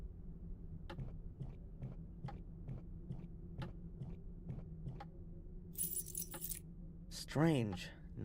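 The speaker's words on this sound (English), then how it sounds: "Strange, none of the keys fit." In the Black Mirror III adventure game, a bunch of keys jangles while being tried in a locked door, with regular light metallic clicks and rattles followed by a brief chiming swish near the end.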